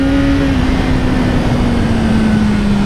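A 2018 BMW S1000R motorcycle accelerating hard out of a bend, a loud sustained engine tone holding steady and dropping slightly in pitch as it pulls away.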